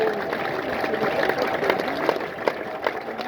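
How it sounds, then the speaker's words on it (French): A gathered audience claps for a doctor, with moderate, uneven applause mixed with crowd murmur and a few louder individual claps near the end. "Est-ce qu'on peut applaudir pour ce docteur?"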